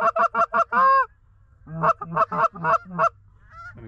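Wild geese honk repeatedly and loudly close overhead during a Pennsylvania goose hunt in winter, rhythmic calls in two bursts with a short pause between.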